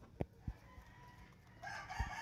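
A backyard chicken suffering from ringworm gives a few short, soft clucks and low grunts, faint and close, with a brief brighter call near the end.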